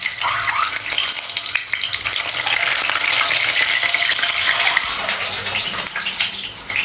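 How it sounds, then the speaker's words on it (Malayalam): Egg frying in well-heated oil in a pan gives a steady, loud, dense sizzle that runs without pause for the whole stretch, with no voices. "അപ്പോൾ അഞ്ചോന് ഇഷ്ടം ഒന്ന് എഗ്ഗ് ചെറുതായി ഫ്രൈ ചെയ്ത് വെക്കണം."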